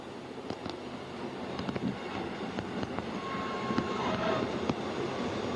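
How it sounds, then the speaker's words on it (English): A steady mechanical hum and hydraulic whine from a hydraulic autopilot run under constant rushing wind and water noise aboard an ocean-racing yacht sailing at about 22 knots, with occasional knocks. "That noise you can hear in the background is the hydraulic steering, the automatic pilot."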